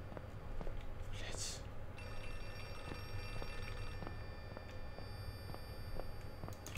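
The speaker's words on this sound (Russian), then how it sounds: "Мне надо на телефон ответить, но я не могу." A telephone ringing in the horror game Outlast 2: a faint, thin electronic ring sounding at a distance under a low ambient hum, with someone talking over it.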